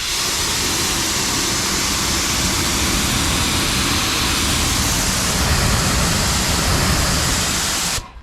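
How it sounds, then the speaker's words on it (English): A water hose rinses a car hood coated with Jade Obsidian graphene ceramic coating. The spray makes a loud, steady broadband hiss close by and cuts off abruptly at the very end. "I'm going to go ahead and just rinse this hood here"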